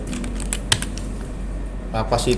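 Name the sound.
typing on a computer keyboard to delete an entry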